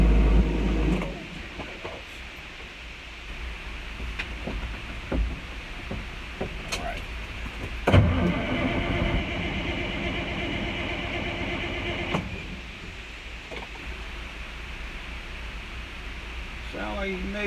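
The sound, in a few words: car engine cranking during a cold start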